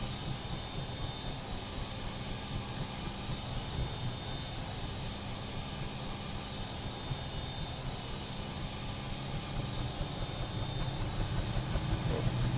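Huey helicopter turbine in a flight simulator, a steady broadband engine roar with a faint rising whine as it spools up, continuous and fairly loud throughout with no talking.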